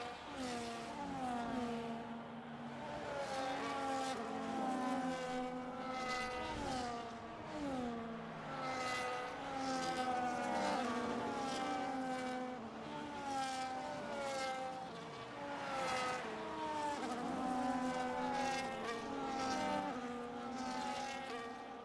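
Race cars drive in a pack behind an Aston Martin safety car on a Saudi Arabian street circuit, engines whining and shifting pitch in overlapping waves, steady and fairly distant, with no talk.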